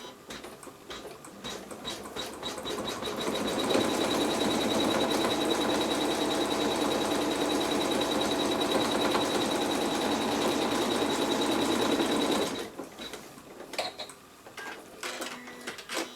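An embroidery sewing machine stitches a quilt block, a close, rapid mechanical ticking and whirring that runs steadily for several seconds before stopping, followed by scattered lighter clicks and handling noises.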